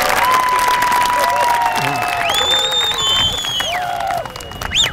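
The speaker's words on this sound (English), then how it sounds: "how about another big applause for the three students for making these beautiful speeches and preparing them." A graduation crowd at Hamtramck High School applauds three student speakers. Loud, steady clapping is mixed with long whistles and cheering that swoop up and down, and a sharp whistle bursts out near the end.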